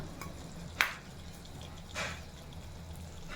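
Ghee heated in a pan with fenugreek for a vegetarian jackfruit curry, a soft steady sizzle with a couple of brief splattering crackles, close and quiet, no voices.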